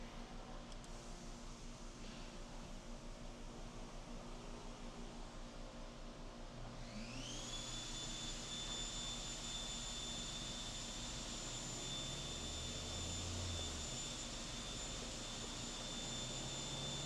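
A DIY leaf blower rigged as a supercharger on a Chevy Sonic on a dyno spins up with a rising whine about a third of the way in, then holds a steady high-pitched electric blower scream over the loud engine drone.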